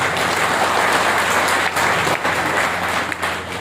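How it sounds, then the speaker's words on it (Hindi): An audience breaks into loud, sustained applause, dense clapping from many hands filling the room steadily with no pauses. "एक बार जोरदार ताली बजाओ।"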